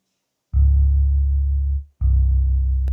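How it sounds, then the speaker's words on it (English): Heavy synth bass from a simple pattern played through a guitar-rig style amp plugin, two long sustained distorted low notes with a short gap between them, loud and alone, for a beat. "I started with a bass pattern, and that sounds like this."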